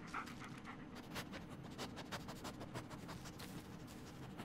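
Dog panting in the Blair Witch video game, a steady run of quick breathy huffs repeating close up over a low ambient game rumble, with no talk.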